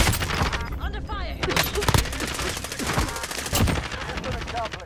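Rapid automatic gunfire in a Call of Duty Warzone match, loud repeated bursts with dense clattering shots, mixed with a player talking over the action.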